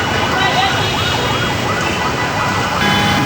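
A loud ambulance siren wails continuously over dense rain hiss and traffic noise on a flooded city street, close and dominant throughout.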